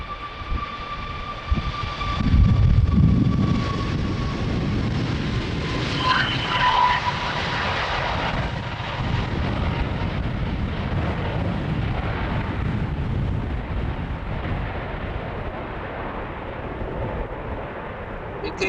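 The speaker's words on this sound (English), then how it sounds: "there's quite a lot of wind blowing from the north, hence these planes are taking off in northern direction" Jet airliners roar down Amsterdam Schiphol's runway 36L on departure in strong northerly wind, a steady loud broadband rumble with gusty wind noise and a thin engine whine running throughout.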